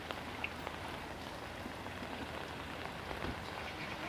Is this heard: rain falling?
yes